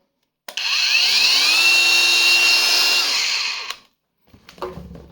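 Grasser GAG 125 cordless angle grinder from the M1 series, a 20 V battery tool, spinning up and running steadily for about three seconds with a high whine, then winding down, followed by brief handling clatter.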